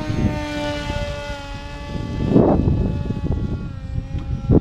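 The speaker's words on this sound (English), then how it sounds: "this four channel wing is flying really well" A large, lightweight FT Explorer four-channel RC sport wing flies with a steady, buzzing propeller drone mixed with heavy wind rush, its pitch shifting slightly as it turns.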